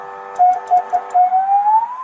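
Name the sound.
alternating siren on a fake police car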